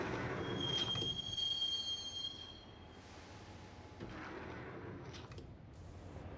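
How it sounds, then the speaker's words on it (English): A train riding along the tracks in the video game Max Payne, with a long high wheel squeal near the start over a rumbling carriage, then quieter rolling noise and a brief second squeal toward the end. "the train doors had already shut behind me, and I was in for the ride"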